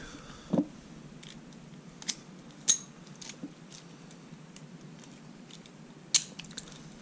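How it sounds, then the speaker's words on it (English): A lock pick dragged quickly across the pins of a pin-tumbler lock, giving a few sharp, close metallic clicks and scrapes over a faint steady hiss with no talking. "we're dragging our our pick across these pins to try to open it"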